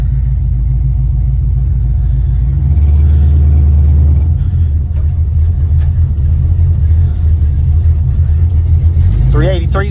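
An El Camino with a 383 stroker V8 and 2.41 gears pulls away under light throttle, its deep steady rumble loud and close, rising slightly near the end.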